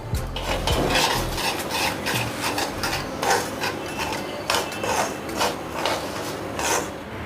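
Spice mix tipped into warm oil in a pan for fried poha chivda, then stirred with a metal spoon: steady close scraping and clinking against the pan, with a brief sizzle at the start.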